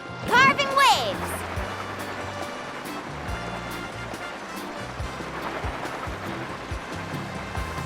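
Surfing on ocean waves in Genshin Impact produces a steady rushing wash of water. A game music cue plays over it, and a voice is heard briefly near the start.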